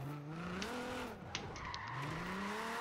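A car in Forza Horizon 4 drifts, its engine droning in rising and falling pitch sweeps while tires squeal in short bursts through the slide, loud and close with no voices.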